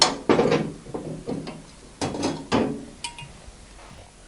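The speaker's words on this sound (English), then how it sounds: "I take the axle out," A front axle slides out of a Triumph Tiger 955i wheel with a series of close metallic clunks, scrapes and knocks spread over a few seconds, no voices present.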